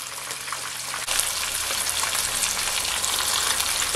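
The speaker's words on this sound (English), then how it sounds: "Because I'm only frying 4 fish." Fish fries in hot oil with a steady crackling sizzle that jumps louder after a moment and keeps bubbling close by.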